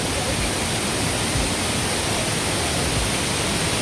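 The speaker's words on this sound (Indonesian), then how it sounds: "Air terjun." Steady, dense roar of a waterfall in Japan, loud and continuous with no breaks, filling the whole clip.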